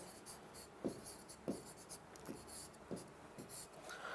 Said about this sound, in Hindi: अगला प्रश्न लिख रहा हूं मैं